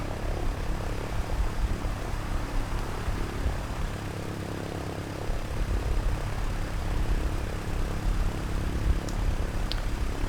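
Cessna 152 two-seater light aircraft taking off, a steady loud propeller engine drone that holds at full power throughout, close by, no talking.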